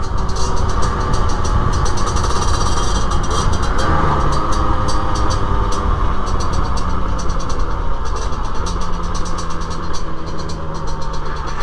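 A 2023 Rieju MRT50 Trophy two-stroke 50cc motorcycle, still restricted, drones steadily and loudly at close range for the whole stretch, its engine mixed with rushing wind and road noise, with no talk.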